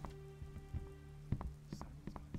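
Rain pattering on a surface in the video game Gothic 2: Night of the Raven, quiet and steady, with scattered drips and light taps.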